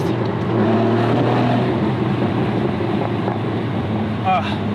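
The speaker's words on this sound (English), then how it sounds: "listen to that sound. This one has the Porsche Sport exhaust." A 2016 Porsche Boxster Spyder with a naturally aspirated engine and the Porsche Sport exhaust drives by, its steady low drone heavily buffeted by loud wind rush for a few seconds.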